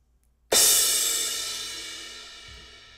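A single cymbal crash hits after a short silence, bright and splashy, then rings out and slowly decays.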